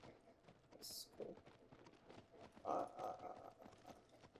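Horse hooves from Shadow of the Colossus sound in short uneven clip-clop beats, with a brighter burst near the middle, over a steady game backdrop of mid-level ambience.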